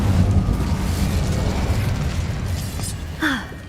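An Incendio fire spell cast in the video game Hogwarts Legacy, a muffled whooshing burst of flame over a low rumbling background, with a brief sharp pop and swish near the end.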